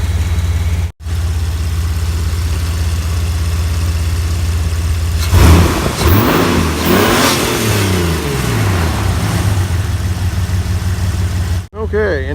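A Jeep TJ engine runs after a tune-up with a new distributor, battery cables and coil pack, holding a steady close idle that swells briefly with a revving surge midway before settling back.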